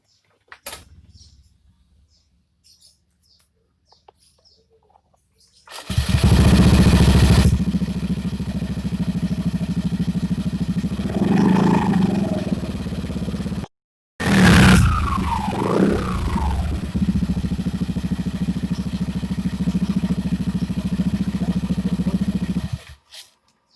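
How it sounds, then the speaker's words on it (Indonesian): A Yamaha Aerox 155 scooter engine cranks and catches, then idles steadily and loudly close by after a CVT roller change, with a brief cut-out midway before it restarts and keeps running with slight revving. "Sekarang kita coba untuk kita nyalakan dulu mesinnya ya"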